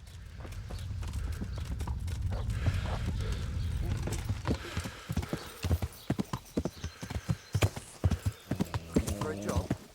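Rapid clip-clop of horse hooves from the video game Kingdom Come: Deliverance, steady and close at first, then breaking into sharper separate thuds, with a brief whinny near the end and a person talking over it.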